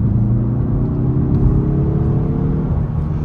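2022 Mazda 3 Turbo sedan pulling hard in sport mode, heard from the cabin as a steady, deep engine drone with a slowly rising tone, loud and without talk.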